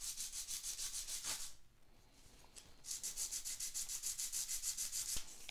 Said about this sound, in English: It's fairly coarse sandpaper.